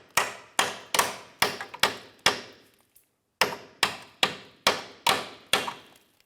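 A hammer strikes a bolt into the control arm of a 2005–2007 Ford 500, giving a dozen sharp metallic taps in an even rhythm with one short pause midway, loud and close.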